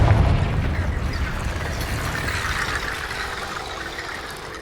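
Fiery Confringo spell blast in Hogwarts Legacy: a loud booming burst at the start that settles into a sustained rumbling roar and crackle, fading slowly over several seconds with no talk.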